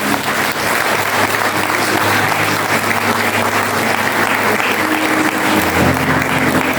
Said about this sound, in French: je vous demande de l'applaudir fortement